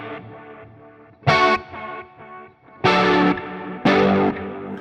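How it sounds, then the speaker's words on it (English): Electric guitar through an HX Stomp Bucket Brigade chorus: strummed chords ring out in three louder bursts between softer passages, with a shimmering, modulated tone and no voices. "if we combined foot switch 2 and 3, just like before, this is going to switch into chorus mode"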